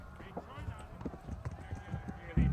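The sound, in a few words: horse galloping in the video game Kingdom Come Deliverance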